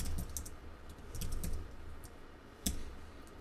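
Typing an SQL query on a computer keyboard, quick light key clicks in short irregular bursts with a sharper tap near the end, close and alone without voices.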